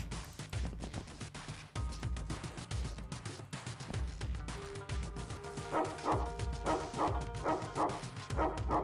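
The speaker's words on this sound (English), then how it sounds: "Barking is a panicking attack." Dog barks from the XPiratez strategy game, a rapid run of yips and woofs with whimpering touches, repeated in quick bursts over game noise, the barking growing busier and more rhythmic toward the end.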